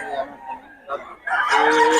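Roosters crow close by, with clucking and other fowl noises building into a louder crow toward the end.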